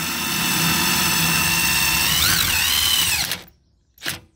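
A power drill fitted with a 19 mm bit cranks the stabilizer jacks on an RV camper, whirring loudly and steadily for about three seconds with a pitch shift near the end, then stops, followed by a brief second burst.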